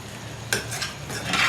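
Rice going into a pot of chicken biryani, with a soft rustling pour and scraping stir against the metal over a steady low sizzle, close and moderately loud, with no talk.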